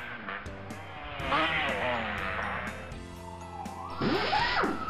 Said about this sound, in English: Sport car.